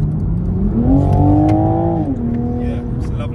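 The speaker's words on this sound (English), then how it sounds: "you've got that lovely sort of orchestra of intake noise, engine noise, and the exhaust note" A 2020 Toyota Supra 3.0 engine revs up and holds, its intake and exhaust note rising in pitch and then settling back, loud and close, with no talk over it.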